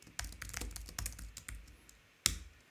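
Light clicks of a computer keyboard as a slash command is typed into Slack, several quick irregular keystrokes close by with a firmer final key press, no voices.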